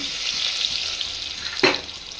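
Garlic sautéing in hot oil with mustard seeds and cumin for palak dal, a continuous close sizzle with one sharper stirring scrape near the end; moderately loud, with no talk.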